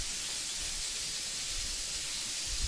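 Short ribs searing meat side down in a big pot, a steady loud sizzling hiss with no break and no voices.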